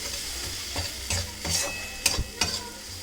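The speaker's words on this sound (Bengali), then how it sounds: "সব কিছু দিয়ে মশলাটাকে আরও ভালো করে একটু কষে নেবে।" A spice paste with chili powder and salt fries in a pan, giving a soft sizzle under a handful of distinct scraping stir strokes and utensil knocks spaced roughly every half second.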